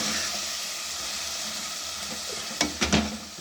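Moong dal sautéing with salt and chicken powder gives a soft, continuous sizzle and hiss. A few quick scraping or clinking stirs break through near the end, with no talking.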